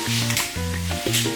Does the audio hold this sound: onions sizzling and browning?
yes